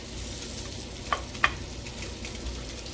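Beef short ribs browning in a hot pan give off a steady, close sizzle with a couple of brief sharp crackles partway through, and no talking.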